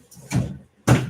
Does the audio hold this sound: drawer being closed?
yes